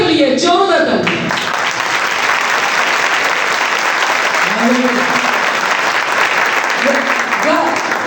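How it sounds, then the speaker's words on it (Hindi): Loud, sustained applause from a large crowd at a Christian worship gathering fills the whole stretch, with a voice speaking briefly at the start and other voices over the clapping. "हमारा खुदा के लिए जोरदार ताली।"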